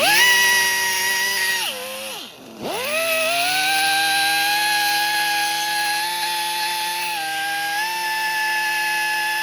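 A power tool with Roll-Lock discs buffs corrosion off a Cadillac SRX rear wheel hub, a loud, close, steady high whine that dips briefly under load, then holds its pitch.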